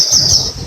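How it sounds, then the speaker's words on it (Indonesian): A small bird gives a steady high-pitched chirping call, close and fairly loud, over a low rumble of background noise, with no talking. "Ini burung."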